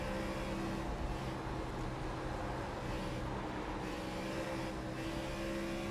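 Continuous drone of NASCAR race car engines in the iRacing simulator, a steady mid-level hum with sustained engine tones and no talk.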